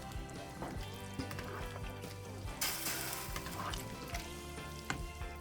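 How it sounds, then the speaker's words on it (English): Pot of water boiling on a stove with corn and vegetables in it, a steady bubbling and hissing at low level with occasional clinks, continuous throughout and with no talk over it. "the pot's boiling pretty good"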